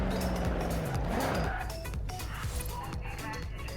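In Forza Horizon 4, a game car's engine revs and climbs through gears with a sharp shift, then settles into a lower drone with brief tire squeal, under someone speaking.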